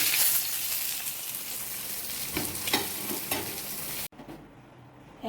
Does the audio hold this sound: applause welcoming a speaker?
no